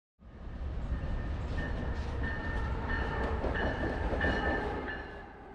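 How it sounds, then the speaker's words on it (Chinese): Two Amtrak Northeast Regional trains pass each other, a loud, steady rush of rolling wheels and rail rumble with faint clickety-clack and brief high squeals, swelling and holding close for several seconds before easing off at the end. "2辆东北区域号会车"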